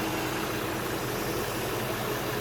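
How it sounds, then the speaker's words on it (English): A 2004 Jaguar XJ8 Vanden Plas idles steadily and smoothly, a constant close engine hum with a broad hiss over it and no voices. "It's just such a smooth engine."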